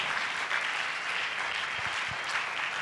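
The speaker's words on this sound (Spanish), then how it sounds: "Dale un aplauso a Él." A church congregation bursts into continuous applause during a Spanish-language sermon, a thick, even roar of many clapping hands with a few low thumps underneath.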